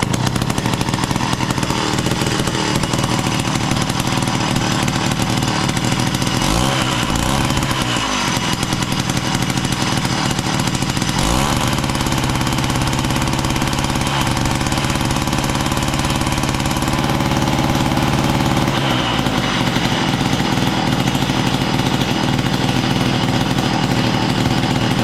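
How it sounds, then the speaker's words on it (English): A Jiffy Model 30 ice auger's small two-stroke engine runs steadily at a warm idle, a loud, buzzy drone with a rough, uneven rattle and brief surges in pitch throughout. "I let it warm up and adjusted those screws a little more, and it seems to be running better"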